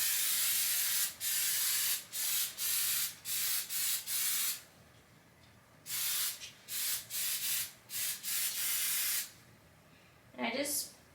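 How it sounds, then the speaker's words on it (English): Lysol disinfectant spray aimed at flies indoors, a series of short and longer hissing aerosol bursts in an irregular rhythm, close and fairly loud, separated by quiet gaps, with a brief voice near the end. "I don't have fly spray, so I just use Lysol."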